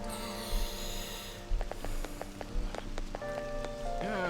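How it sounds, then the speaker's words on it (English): Rain falls steadily in Persona 5 Royal, a soft constant patter mixed with game music and chiming tones, with occasional low thumps and a brief rising tone near the end. "Because it's still raining"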